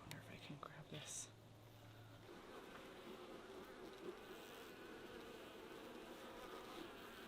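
Honeybees hum steadily at a strong hive being readied for winter. The buzz is faint and continuous throughout, and a quiet voice speaks briefly near the start.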